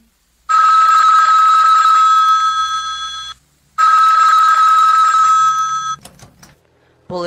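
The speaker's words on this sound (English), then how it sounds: "Ringing the police department." Old-style telephone bell in a radio drama rings loud and close in two long bursts with a short gap between them, followed by clicks and a brief fragment of a voice at the end.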